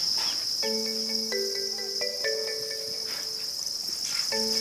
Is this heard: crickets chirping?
yes